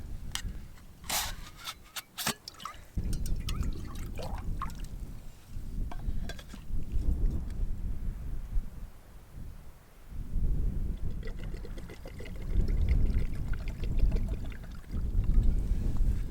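Water poured repeatedly into a container at a mountain campsite in wind, with splashing bursts near the start and longer steady pouring runs, close and moderately loud.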